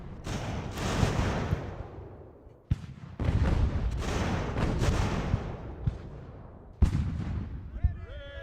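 Artillery cannons fire in the strategy game Ultimate General: American Revolution, with several deep booming blasts spaced across the battle and rumbling echoes between them, heard fairly close.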